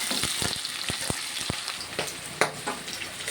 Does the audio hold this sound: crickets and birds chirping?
no